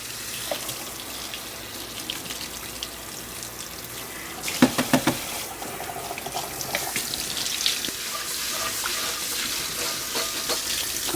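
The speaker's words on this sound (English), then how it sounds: "Rinse that off." Running tap water pours steadily into a sink while a wok is rinsed under it, with splashing and clattering as the pan is moved about near the middle, continuing to the end without speech.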